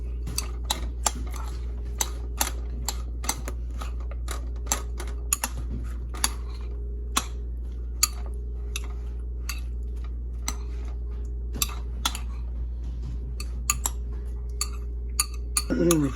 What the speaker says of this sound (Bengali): তো আমি খুব ভালো করে মিশিয়ে নিলাম।